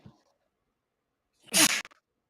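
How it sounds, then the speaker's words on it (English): A single sharp sneeze bursts out loud and close after a moment of near silence, preceded by a faint murmur. "I went ahead and I sneezed."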